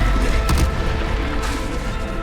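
Heavy booming blasts from the Bombarda explosion spell in Hogwarts Legacy, a couple of sharp bursts over a dense, rumbling battle din, loud and close.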